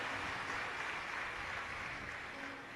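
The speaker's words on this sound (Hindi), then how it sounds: "ताली बजाकर साथ होगा।" Audience at a Shiv Mahapuran religious discourse claps steadily, a dense, fairly faint wash of applause that holds for about three seconds before easing slightly at the end.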